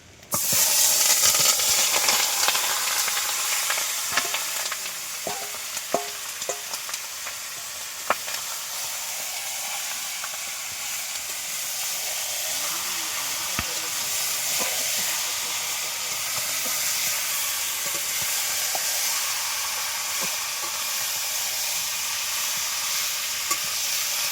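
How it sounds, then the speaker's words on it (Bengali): Chicken pieces dropped into hot oil in a pan, a loud burst of sizzling at first that settles into a steady hissing fry, with occasional scrapes and knocks of stirring. "এইবারে মাংসগুলোকে এবার দিয়ে দেবো। গরম হয়ে গিয়েছে।"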